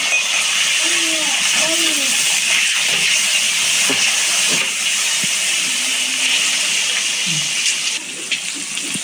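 Eggplant dropped into hot oil after fried potato in a Bengali home kitchen, giving a steady, loud sizzling hiss that runs throughout, with faint voices and light clinks underneath before easing slightly near the end.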